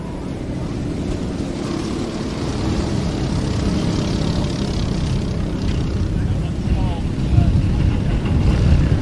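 Racing karts at Glen Helen Raceway's short course start a race at the green flag and head into turn one, a dense, rising engine drone at moderate distance with a commentator talking over it.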